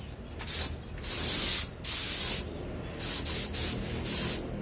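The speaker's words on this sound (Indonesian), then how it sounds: "Nanti kita akan dapat semprotan" A spray bottle hisses in repeated bursts, some long and some short and quick, loud and close with brief pauses between.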